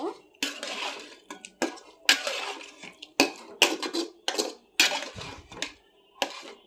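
Meat sweetened with a little sugar being stirred and mixed in a cooking pot, with repeated clinks and scrapes of a utensil against the pot in short bursts, close and fairly loud, no talking.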